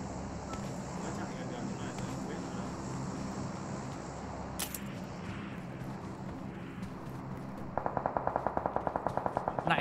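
Rapid automatic gunfire from PUBG Mobile on the Sanhok map: a fast, evenly spaced burst of shots breaks in near the end over a steady wash of game ambience.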